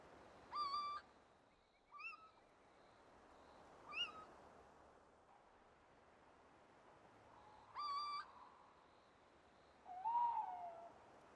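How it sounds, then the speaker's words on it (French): Little owls call at nightfall near a hilltop fortress in the Livradois-Forez, giving about five separate clear hoots and mewing cries spaced a couple of seconds apart, faint and distant over a quiet background. "au premier cri des chouettes chevêches"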